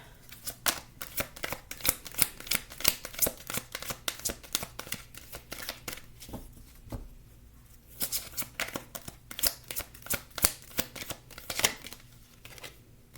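Tarot cards being shuffled by hand, a rapid run of crisp papery riffles and slaps in close succession, close and soft, with a brief pause midway before the shuffling resumes.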